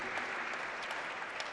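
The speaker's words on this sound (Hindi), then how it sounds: "जरा ताली बजा दो।" An audience at a religious discourse on Ayodhya claps in a sustained, even burst of applause that carries evenly throughout, faint and somewhat distant.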